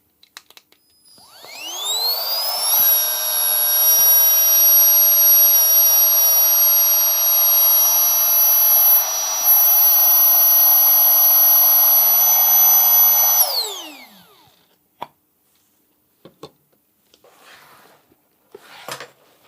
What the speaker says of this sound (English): now when it is inside, let's pump it again